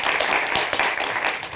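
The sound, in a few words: audience applause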